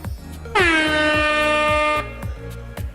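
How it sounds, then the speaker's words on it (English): Alarm sound effect from a soundboard, a loud, blaring air-horn-like blast that sounds once and holds for about a second and a half over a rhythmic background beat. "There's an alarm in the building."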